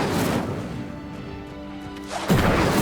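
An Incendio fire spell igniting a pyre in Hogwarts Legacy, a loud whooshing burst at the start, a sustained rumbling roar of flame, then a second heavy crash of fire near the end.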